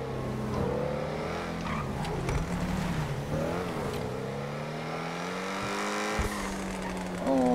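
A fast sports car in GTA 5 roars continuously, its engine revving up and down through shifts, loud and close, with a voice talking briefly over it.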